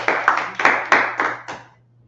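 A small group claps at close range in about six uneven bursts over two seconds, each burst sharp and then trailing off, ending in quiet, with a low steady hum underneath in an indoor class setting.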